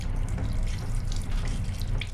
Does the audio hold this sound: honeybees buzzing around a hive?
no